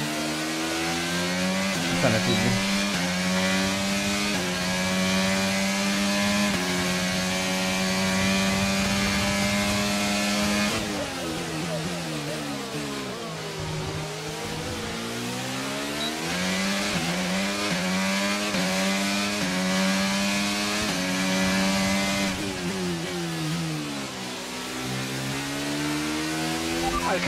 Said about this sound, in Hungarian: a hangja alapján szerintem Renault motor van ebben a kocsiban